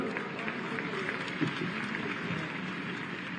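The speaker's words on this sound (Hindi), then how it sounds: "इतने छोटे बच्चे के लिए इतनी कमजोर तालियां" Audience at a school award ceremony gives a small child thin, scattered applause, light claps spread over a steady murmur of background voices with no strong burst.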